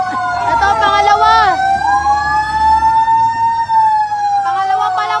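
Fire engine siren at a blaze in Villar City, loud and near, sweeping up and down in a steady wail, with an engine rumbling beneath and voices calling out.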